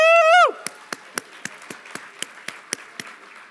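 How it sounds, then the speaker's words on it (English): Applause at an annual business dinner and hall of fame event: a loud whooping shout opens, then a dozen or so distinct, evenly spaced claps ring out, sparse rather than a full crowd ovation. "We can clap louder than that."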